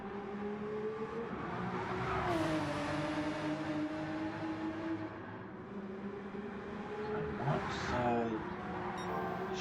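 A GT3 race car engine in a racing video game holds full throttle on the Nürburgring Nordschleife, a steady droning whine that rises in pitch, dips with a gear change and climbs again, heard under commentators' talk.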